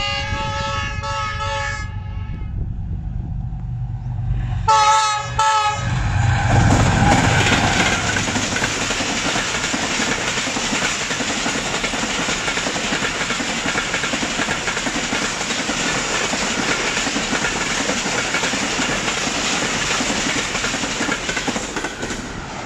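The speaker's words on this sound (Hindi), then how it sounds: "और पाकिस्तान एक्सप्रेस आ रही है" The Pakistan Express passenger train passes through a station in Pakistan, first sounding its loud horn in two blasts, then a close, heavy roar of wagons and rhythmic wheel clatter that continues steadily for a long stretch.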